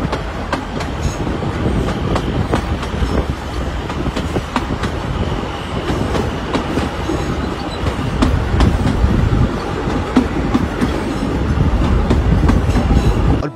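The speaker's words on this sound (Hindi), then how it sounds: "इन खेतों में लहलाते फसलों के बीच हमारी ट्रेन धीरे धीरे अपने गंतव्य की" Old train rolling slowly between crop fields, a loud steady rumble with rhythmic wheel clatter on the rails that continues without a break.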